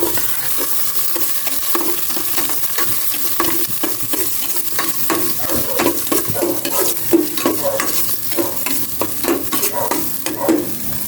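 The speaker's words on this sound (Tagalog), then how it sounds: "Igisa ko na tong bawang." Garlic sautés in a pan in a home kitchen, a steady sizzle and frying hiss broken by repeated clicking stirs of a utensil against the pan, close by and with no talking.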